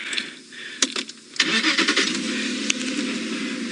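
A safari game drive vehicle's engine being started and turning over with repeated cranking, then running unevenly with revving surges, close and loud outdoors.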